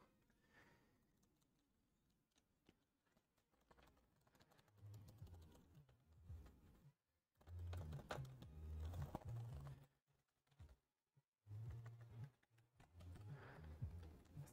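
Fast bursts of clicky key presses on an Asus TUF FX505 laptop keyboard after its keyboard and case were replaced, fairly near and dry. Short pauses separate the runs of typing, and no one speaks.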